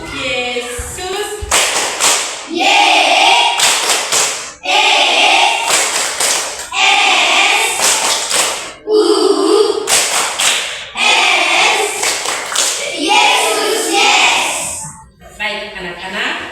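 Children in a classroom perform the tepuk Yesus clapping chant, loud bursts of rhythmic hand claps alternating with group chanting voices, repeated several times.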